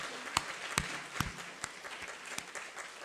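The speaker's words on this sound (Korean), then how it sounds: "그럼 박수 한번 하겠습니다." A church congregation at a Korean Sunday worship service gives a short burst of applause, a few sharp claps standing out over softer scattered clapping, heard from a little distance.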